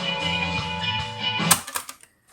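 Right channel of a tape machine playing back recorded music, a dense full-range mix with steady tones that cuts off abruptly near the end, followed by a few short trailing sounds and brief silence.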